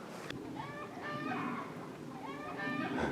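Chickens on a snowy Arkansas homestead clucking and crowing, several repeated rising calls at moderate distance over a low outdoor background, no speech heard.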